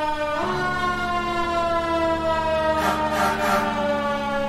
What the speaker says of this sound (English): We'll just do the Q siren.